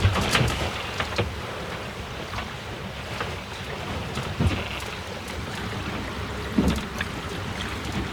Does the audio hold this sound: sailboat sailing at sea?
yes